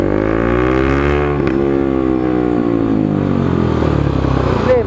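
A motorcycle fitted with a newly replaced loud exhaust revs hard nearby, its deep droning roar rising and falling in pitch across several seconds as the throttle is worked.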